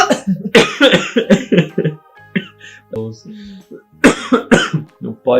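A person coughs a few times in short bursts between stretches of close, animated talking.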